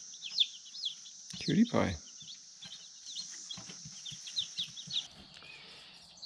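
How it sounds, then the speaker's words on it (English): Backyard chickens cluck and chirp in short, scattered calls close by, with a brief louder squawk early on, while a person speaks softly over them. "Chickens. Good little chicken."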